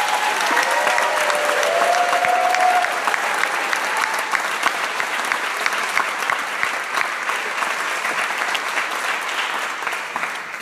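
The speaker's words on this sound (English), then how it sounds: "please join me in one huge round of applause for all of the filmmakers" Award ceremony audience gives filmmakers a long round of applause, sustained crowd clapping that stays full and even before thinning slightly toward the end, heard without speech.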